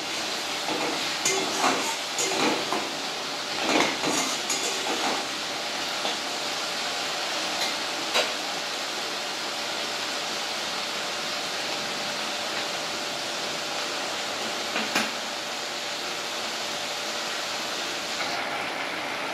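Spices, including Kashmiri chili powder, fry together in a pan for an egg and potato kosha, giving a steady close sizzle broken by scraping stirs early on, with no one talking.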